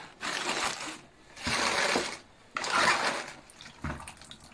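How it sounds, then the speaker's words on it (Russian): Excess water sloshes and pours out of a trough of washed leaves in several bursts separated by short pauses, splashing close by with a liquid rush. "Воду сливаем лишнюю."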